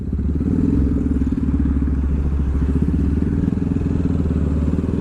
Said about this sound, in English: Just wheelie out of here